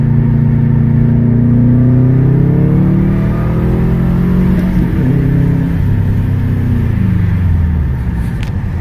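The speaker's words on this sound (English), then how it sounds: "we're gonna let her stretch her legs real quick. Do a second gear pull here." A 2007 Subaru Impreza accelerates hard through second gear, its engine note climbing steadily for several seconds before easing off, loud and close with no talking.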